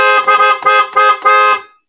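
A single set of PIAA Oto-style car horns blares in four loud, close, tonal blasts of about a quarter second each, with brief gaps between them and no talking.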